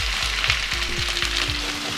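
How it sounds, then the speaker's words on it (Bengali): Chopped onions frying in oil with whole spices for lamb rogan josh, a dense close sizzle with a quick series of knocks and scrapes from stirring. "অ্যাড করে তারপরে আমরা একটু পেঁয়াজটাকে হালকা করে একটু ফ্রাই করে নেব"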